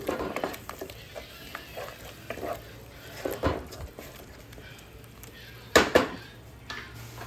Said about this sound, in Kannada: ಇದಕ್ಕೆ ನಾವು ರೆಡಿ ಮಾಡ್ಕೊಂಡಿರುವಂತಹ ಪುದೀನ ಪೇಸ್ಟ್ ಇದೆಯಲ್ವ ಇದನ್ನು ಹಾಕಿ ಸ್ವಲ್ಪ ಇದನ್ನು ಫ್ರೈ ಮಾಡ್ಕೋತಾ ಇದ್ದೀನಿ